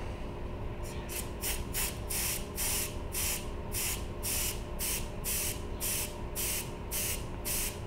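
A spray gun lays a final clear coat on a bass boat, pulsing in a rapid regular series of hissing bursts over a steady background hum, close and even in loudness.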